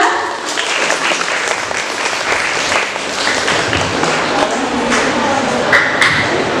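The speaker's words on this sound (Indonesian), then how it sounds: "beri tepuk tangan untuk kandidat 2" Audience applause for a student council candidate at a junior high school OSIS election debate, a steady dense clapping from a nearby crowd that fills the room for several seconds.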